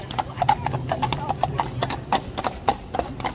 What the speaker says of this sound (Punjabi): ਅਸਾਂ ਕੋਲ ਹੀ ਘੋੜੇ ਆ ਰਹੇ